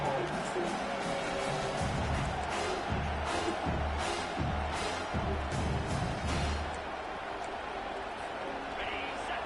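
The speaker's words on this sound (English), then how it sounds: "And this crowd coming to life here, trying to help the defense get a stop with the offense pinned back." A stadium crowd at a Michigan versus Pittsburgh football game roars and cheers in swelling bursts, sitting beneath a commentator's continuous play-by-play.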